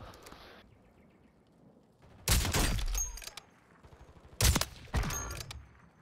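Video game gunfire: bursts of sharp, loud shots arrive in three clusters after a quiet opening, with faint background ambience between volleys.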